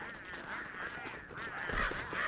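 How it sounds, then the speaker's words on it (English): Penguins in the video game Don't Starve give repeated honking calls, a loud, steady cluster of overlapping goose-like honks throughout. "okay, there's a bunch of penguins."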